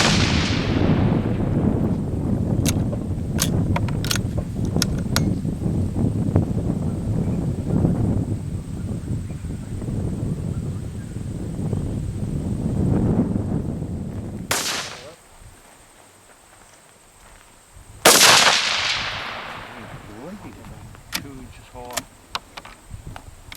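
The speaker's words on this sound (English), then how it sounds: "About to shoot a 5-shot group with the 20 grain ballistic tip" A Savage .17 WSM rifle fires 20 grain ballistic tip rounds at about 3,000 feet per second: two sharp, loud cracks ring out separately after a stretch of talk, followed by a few light mechanical clicks.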